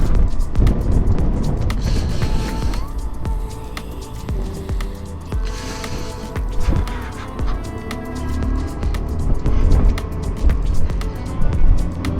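A motorcycle engine revs hard while climbing a steep high-altitude road toward Chang La Pass in Ladakh, a loud continuous drone rising and falling with throttle, with wind rumble and no speech.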